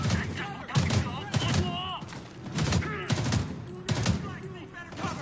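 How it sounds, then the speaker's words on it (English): Repeated bursts of 5.56 rifle gunfire in Homefront: The Revolution, loud and close, firing in short volleys about once a second over a steady battle din, with someone talking between and over the shots. "I'm sending bullets down range."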